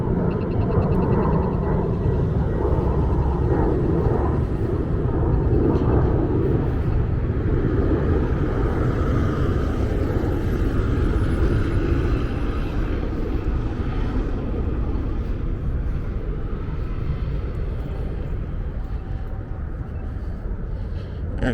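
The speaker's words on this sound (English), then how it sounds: "There's a plane going off in the sky over there." An airplane passes overhead above the Las Vegas Strip, a broad, continuous engine roar and rumble that stays loud and steady for a long stretch, mixed with faint outdoor street ambience.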